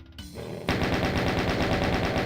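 Rapid automatic gunfire from the Doom II video game, a steady stream of loud, evenly spaced shots kicking in after a brief quiet moment and continuing without pause.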